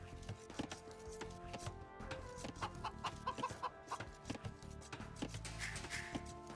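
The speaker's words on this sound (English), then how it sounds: "What's up, chicken noises?" Chickens in the Medieval Masters strategy game, clucking in a rapid rhythmic series mixed into busy in-game background sounds, moderately loud and with no talking.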